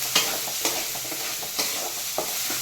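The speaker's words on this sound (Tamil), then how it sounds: "நல்லா ஃப்ரை பண்ணிட்டுருக்காங்க பாருங்கள்." Maggi noodles with masala frying in a pan, a steady sizzle under a spoon scraping and stirring in a few distinct strokes, close up, with no talking.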